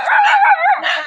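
Dogs yelp and bark in a close, continuous, high-pitched cluster at a backyard pig pen with piglets, loud and without any talk.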